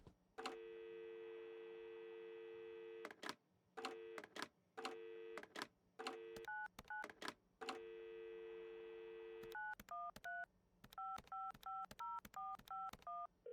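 Telephone keypad tones in the video game Adios, a series of clean electronic beeps: long steady tones at first, then rapid short dialing tones in quick succession, loud and close with no talking.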